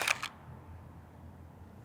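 A film camera shutter clicks once at the start on a Kodak Kodacolor 100 test shoot, a short sharp mechanical snap close by, followed by quiet room tone.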